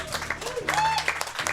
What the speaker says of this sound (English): A round of applause to Crazy Al